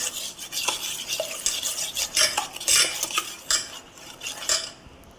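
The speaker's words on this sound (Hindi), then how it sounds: "और इन सारी चीज़ों को अच्छे से मिक्स कर लेंगे।" Spoon stirring and scraping chicken with salt, turmeric, black pepper and other spices in a bowl for pakora, a steady run of close metallic clinks and scrapes with no talking.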